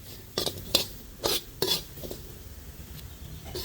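Chili and garlic dry-roast in a pan as a utensil scrapes and knocks against the metal in several distinct strokes, close and moderately loud over a faint background hiss, with no talk.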